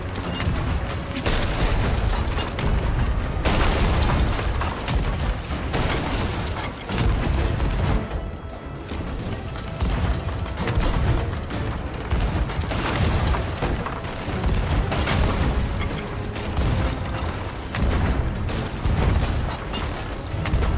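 Heavy cannon fire booms continuously in a pirate galleon battle in a video game, a dense, loud barrage of overlapping blasts and rumbling impacts with no break.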